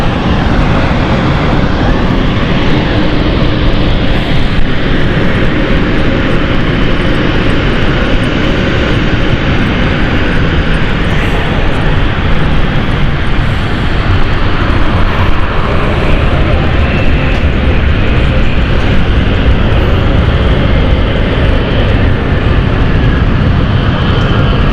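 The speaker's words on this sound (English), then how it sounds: "This is the KLM City Hopper, the Amsterdam flight. Just coming in right now." A KLM Cityhopper airliner arriving at London City from Amsterdam roars loudly and continuously, its dense engine noise close and unbroken throughout.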